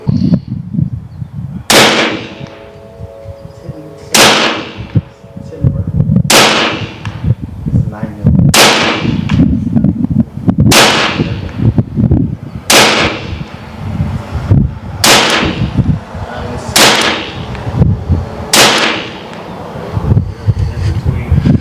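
A 9mm airgun, a BINTAC T9 or T50 Extreme, is fired outdoors in an accuracy test: nine sharp, loud, evenly spaced shots about two seconds apart, with wind noise and mechanical handling between them.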